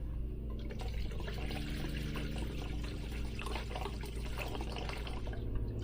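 Coolant trickles into a funnel under a Nissan Frontier, a steady low gurgling pour with faint drips over a constant background hum.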